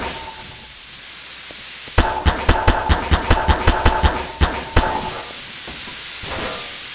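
A rocket built in Garry's Mod lifting off: after a quiet hiss, a rapid, evenly spaced series of about a dozen sharp mechanical pops and bangs over three seconds, then a couple of stray bursts and a fade back to low hiss.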